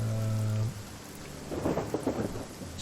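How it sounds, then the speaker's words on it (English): Thunder and rain in the online game Mortal Online 2: a low rumble fades after the first moment, then a rolling crackle of thunder over a steady wash of rainfall, fairly quiet throughout with no talking. "That's why the sounds of thunder."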